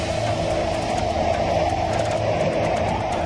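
A steady, dense roar of hurricane wind outside fills the air, broad and unbroken, with a low rumbling undertone that never lets up.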